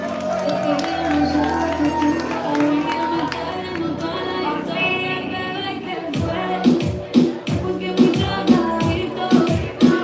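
A live audience at a spoken-word poetry event in Houston claps, cheers and shouts to welcome a poet to the stage, with a host's voice talking over the crowd noise.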